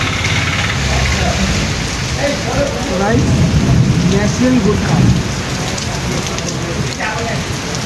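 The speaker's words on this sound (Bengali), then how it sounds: "এখানে বৃষ্টি হচ্ছে" Steady heavy rain pours throughout during a storm, with someone talking briefly over it midway.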